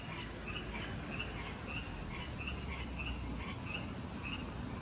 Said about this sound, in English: The frogs are loving it.